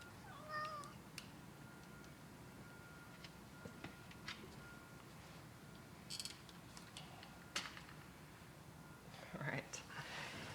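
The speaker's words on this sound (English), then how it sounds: "Now we've got a cat." A cat meows indoors, a few faint short calls near the start among quiet clicks and light room noise, with soft speech-like sounds in the background.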